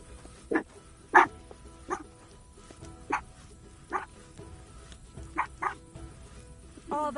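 Several sharp dog barks from the video game Kingdom Come: Deliverance II, spaced irregularly over a quiet background, moderately close, with a short rising yelp at the end.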